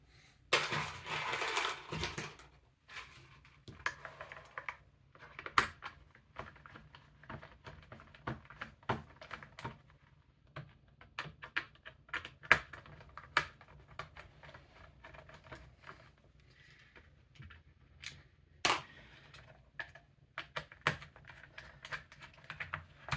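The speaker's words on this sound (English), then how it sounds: "So we're going to start with that T15. And we're just going to remove these 3 screws." A T15 Torx driver backs three screws out of the plastic halogen headlight housing of a Hummer H2, giving scattered sharp close-up clicks and ticks with quiet gaps between them.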